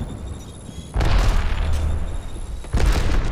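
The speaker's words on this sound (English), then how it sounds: "Look out, grenade." A grenade explodes in Apex Legends with a heavy, close boom and rumbling tail, followed by a second blast about two seconds later.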